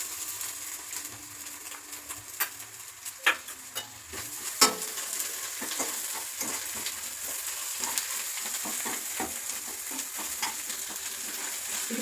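Ginger garlic paste frying in a pan for chicken curry, a constant crackling sizzle with sharp spatula taps and scrapes scattered through it, close and moderately loud.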